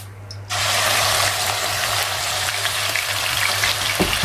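Raw kidneys drop into melted fat in a hot pan and burst into a loud, dense sizzle that starts abruptly and crackles on steadily, close by, with a low hum underneath.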